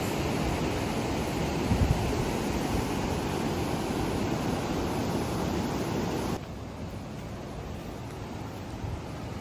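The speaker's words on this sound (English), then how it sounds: "And the sound of the waves." Ocean waves wash onto the beach at Treasure Beach, Jamaica, a broad, constant roar of surf mixed with heavy wind buffeting the microphone, easing slightly partway through.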